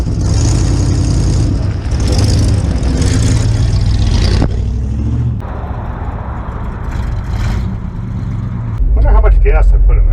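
An International 4x4 truck driving on the road gives a loud, steady engine drone from inside the cab, easing off midway and then swelling again near the end, while a person talks over it.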